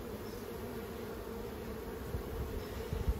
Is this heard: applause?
no